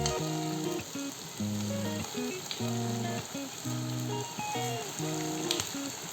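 Chana pitha frying in hot oil in a wok, with a steady soft sizzle that runs beneath a louder melodic music track. No one speaks.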